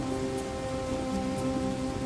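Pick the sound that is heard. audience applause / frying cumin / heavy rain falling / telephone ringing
heavy rain falling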